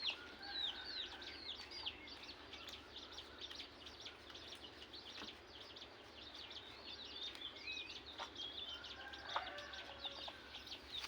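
Fighting-breed rooster clucking, faint and distant: scattered short calls repeat over a quiet outdoor background throughout.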